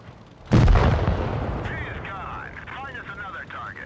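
A Type 62 tank cannon fires once in a video game, a heavy, booming blast up close that rolls away, followed by warbling electronic tones and faint in-game effects.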